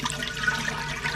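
Homemade buttermilk pours through a colander into a bowl beneath, a brief steady liquid splashing and trickling close by.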